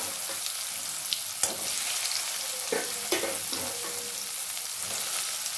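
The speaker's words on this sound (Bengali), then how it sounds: "পনিরটা দিয়ে খুব বেশি ভাজবো না, ওই মিডিয়াম।" Paneer fries in hot oil with a continuous bright sizzle, punctuated by intermittent spatula scrapes and knocks as the pieces are stirred around the pan.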